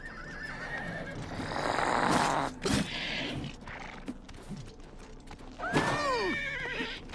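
A horse in the video game Oblivion whinnies loudly amid hoof clatter and scuffling noise during a fight, followed by a second, higher squealing neigh near the end.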